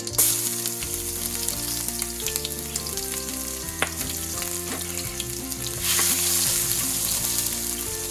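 Ginger sizzles steadily in three tablespoons of hot oil while a monggo and ground pork dish gets started, a dense continuous frying crackle with occasional stirring clinks, loud and close, with no voices.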